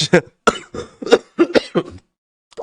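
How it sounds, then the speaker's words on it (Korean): A man coughs repeatedly in a series of short, harsh, close coughs and throat clearing, several bursts over a couple of seconds, loud and alone. "기침 자꾸 나오네"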